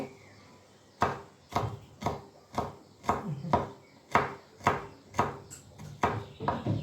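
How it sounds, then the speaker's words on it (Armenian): A knife chops on a board in about a dozen sharp, fairly regular taps, close up, mincing something small like garlic. "սխտորը լավ ենք մանրացնում, որ լավ տապակվի"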